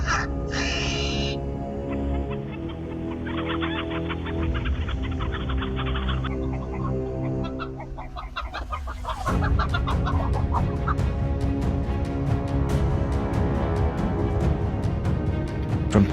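Chickens cluck and squawk for about sixteen seconds, with overlapping calls from several birds and a rooster-like crow. The sound starts moderate and grows busier and louder partway through.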